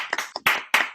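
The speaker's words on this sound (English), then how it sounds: "If you want, we can clap." A few scattered hand claps from a small group at an online poetry open mic, brief, sparse and uneven, with no steady applause.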